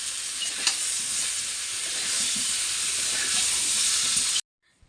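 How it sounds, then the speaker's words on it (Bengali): Potatoes frying in a pan during home cooking for a Saraswati Puja meal, giving a steady, loud broadband sizzle that runs unbroken for about four seconds before cutting off abruptly, with no voices. "এখানে আরেক ভাগে আলু ভাজা চলছে"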